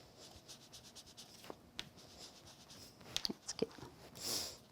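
An ink blending tool rubs around the edges of a white card in soft, close, scratchy strokes. A few firmer scrapes and dabs come near the end, all quiet and with no talking.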